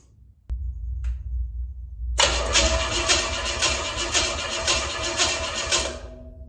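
A small block Chevy engine turns over with low cranking, then fires and settles into a loud, steady running roar close by.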